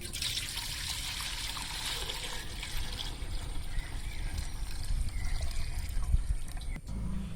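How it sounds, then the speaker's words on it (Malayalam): Water trickling and pouring steadily into a cooking pot set out for boiling potatoes for french fries, a continuous close liquid stream with a brief clatter near the end. "കുറച്ച് വെള്ളം ഒഴിച്ചു കൊടുക്കണം."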